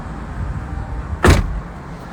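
Car door closing automatically at the push of a button: a single solid thud with a short whoosh, close and loud, alone over a steady background hum.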